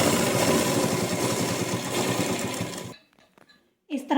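A sewing machine runs steadily for about three seconds attaching piping to a kurta neck patti, then stops, followed by quiet handling and a brief voice.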